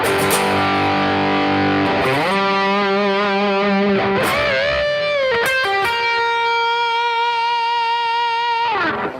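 Sustained overdriven electric guitar chords ring out with a trailing delay, several chord changes, loud and saturated, through an 808 overdrive pedal.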